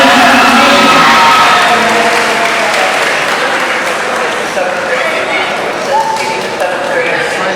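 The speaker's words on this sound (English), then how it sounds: "I think one of the students may not have heard me because of our enthusiastic cheering" A school awards-day audience cheers and applauds loudly and steadily, a dense wash of clapping and excited shouting that stays near and full throughout.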